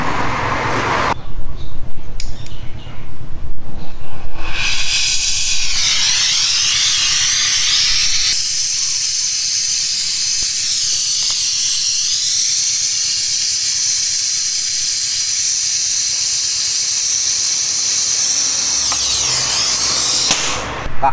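A gas torch hisses loudly and steadily while brazing copper pipes on the compressor of a Hitachi inverter refrigerator, with a few sharp pops near the start and a continuous roaring flame throughout, no talk.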